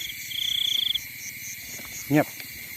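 A cricket in a rice field gives a short, high-pitched trill up close, followed by quiet with a brief voiced sound near the end.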